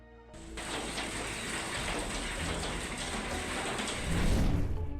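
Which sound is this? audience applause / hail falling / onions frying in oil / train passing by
hail falling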